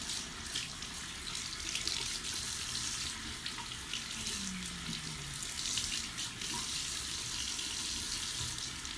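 A makeup buffer brush, coated in foundation, is rinsed under a running tap into a sink, giving a steady, soft splashing hiss of water that continues throughout with small shifts as the brush moves.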